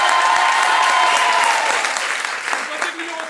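A festival crowd at a Paris improvisation show claps loudly and steadily to vote for a performer, the applause thinning slightly toward the end, with a voice briefly audible underneath.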